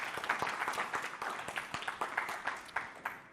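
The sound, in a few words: audience applause after a lecture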